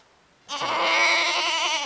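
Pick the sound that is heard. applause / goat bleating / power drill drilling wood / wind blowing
goat bleating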